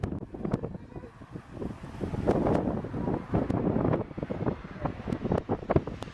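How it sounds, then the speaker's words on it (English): Strong wind buffets the microphone during an aircraft landing, a steady rough roar with gusting swells and sharp crackling bumps throughout. "Look at this crazy wind."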